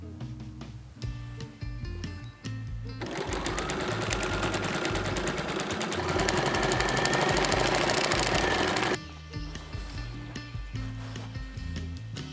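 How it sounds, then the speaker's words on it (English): A sewing machine stitching the side seams of a wrap skirt runs in one loud, steady burst of rapid needle clatter lasting several seconds, with quieter pauses on either side. "place your front skirt pieces right sides to the back and sew up the side seams"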